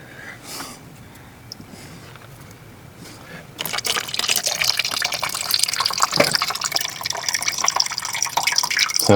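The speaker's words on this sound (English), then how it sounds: "I'm just draining it out because I want to see what's" Coolant draining from a 2012 Ford Focus, quiet drips at first and then a steady loud splashing pour of liquid that keeps running to the end, alone with no talk.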